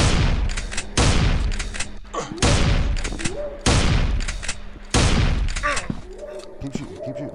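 Gunfire in the Finding Bigfoot video game as players shoot at Bigfoot: loud, heavy bursts of rapid shots repeat about every 1.3 seconds and decay into brief gaps, with a voice talking between them.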